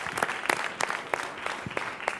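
Applause from the audience at the third gala concert of the dance show So You Think You Can Dance, moderately loud and continuous, with sharp individual claps standing out.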